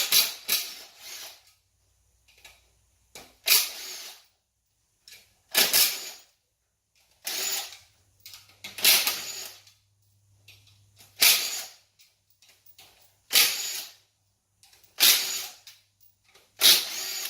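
Short bursts from a power tool, likely an impact driver or drill, zipping off the cam cover bolts of an LS V8 engine during a teardown; about eight sharp, loud bursts separated by brief pauses.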